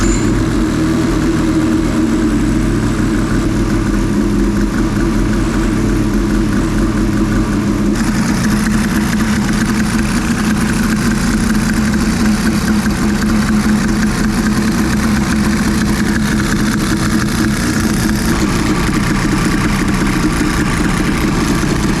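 A ZR 800 engine idles after a carburetor install, a loud, continuous, close drone with a steady low throb and a slight change in tone partway through, with no voices.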